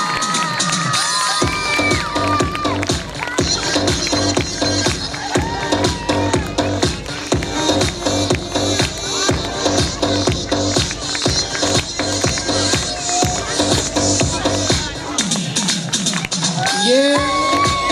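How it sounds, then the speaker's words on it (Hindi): A large group of children claps and cheers loudly at a prize distribution ceremony, with shouts and whoops over steady rhythmic clapping that continues without a break throughout. "भरपूर तालियां"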